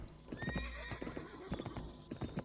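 Horse hooves clip-clop in a steady gallop rhythm in an Ottoman-era gendarme video game, loud and close, with brief animal calls and game effects mixed in.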